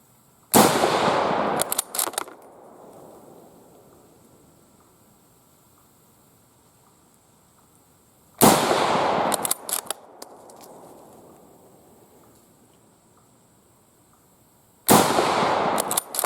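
Three loud rifle shots from a Swedish Husqvarna M38 Mauser firing 6.5x55 PPU 139-grain soft point rounds, each a sharp blast with a long echoing tail, spaced about seven seconds apart outdoors.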